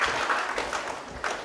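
Brief burst of applause for debate participants called onto a school stage, a short patter of clapping from a small audience, fairly close and with no talk over it.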